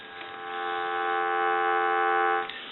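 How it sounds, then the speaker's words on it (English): A steady, continuous electronic dial tone on a Stromberg Carlson 554 telephone holds at even loudness for a few seconds, with no talking. "I want to give you some dial tone."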